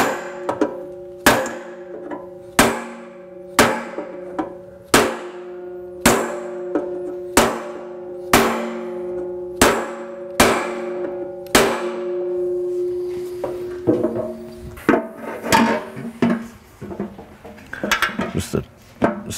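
A steel oil pan for a small block Ford is struck repeatedly, about a dozen evenly spaced, ringing metallic clangs with long sustained tones, followed by looser, irregular knocks and clatter near the end.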